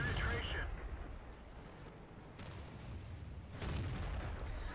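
AT-7 tank destroyer cannon shots in World of Tanks: two heavy booms roughly a second and a half apart after an initial blast, each followed by a rumbling decay, with speech over the top.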